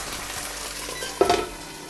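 Tomato sauce goes into a frying pan where Italian-style hamburg steaks sizzle over medium-low heat, a steady hiss that flares into a brief splattering burst as the sauce hits.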